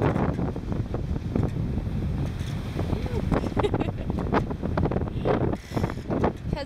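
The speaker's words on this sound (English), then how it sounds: "Had some pretty strong winds through the night with some squalls." Strong wind buffets the microphone aboard a sailing boat racing across the South Atlantic, with waves rushing and surging around the hull in a loud, constant roar.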